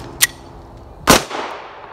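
A single pistol shot cracks out sharply, close and loud, during a drawing drill in a basic handgun class. A small click comes before it and a brief metallic sound follows.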